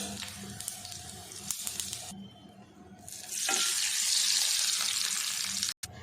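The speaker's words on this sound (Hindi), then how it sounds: "अब इसमें डाल देंगे 2-3 लाल वाली मिर्च और 1 टीस्पून ज़ीरा" Red chillies and cumin seeds tossed into hot desi ghee for a tadka over a palak chana dal, first a crackling fry, then a short lull, then a loud, steady sizzle that flares up and carries on.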